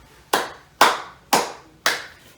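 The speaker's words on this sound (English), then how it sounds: "I'm going to clap for you right now." Four sharp hand claps ring out evenly spaced about half a second apart, each a crisp, close, loud slap with a brief decaying tail, and no voices.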